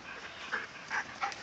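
A dog, probably a black dog playing with other dogs, gives a few short whimpering yips close by at a low level, with no talking.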